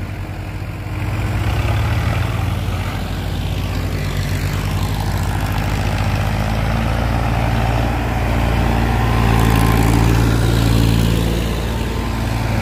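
A tractor engine, a Swaraj 855 set against another tractor in a tug-of-war, pulls at full power with a loud, steady, throbbing drone that swells louder toward the end, with no talk over it.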